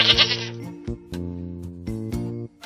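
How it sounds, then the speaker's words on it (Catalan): A goat bleats several times in quick succession, close and clear, each call a wavering nasal cry with short gaps between. "una cabra."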